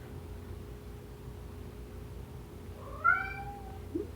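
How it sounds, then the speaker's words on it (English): A house cat gives a short, rising meow near the end of a quiet stretch, clear and close against low background hiss, followed by a brief faint chirp. "You're the one meowing for no reason."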